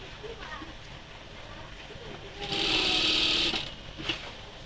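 A sewing machine stitches in one short burst during a thread tension test, a loud whirring run of about a second after quieter handling of the machine, with faint talk around it.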